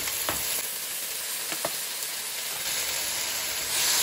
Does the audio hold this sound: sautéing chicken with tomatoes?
yes